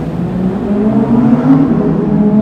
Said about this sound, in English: Two Lambos racing right there.